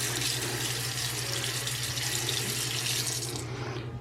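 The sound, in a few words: washing hands under running sink tap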